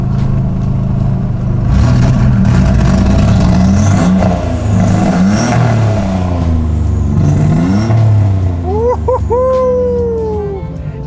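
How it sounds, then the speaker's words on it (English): A Nissan Z31 300ZX with a JDM exhaust revs hard through a burnout, its engine wailing up and down in loud rising and falling sweeps before a high whine swells near the end. "See if we can do a little burnout"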